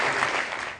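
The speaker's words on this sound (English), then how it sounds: "Let's give a round of applause" Applause from an audience after a talk on military corruption and democracy, a steady dense patter of many hands throughout a brief stretch, fairly near, fading slightly at the end.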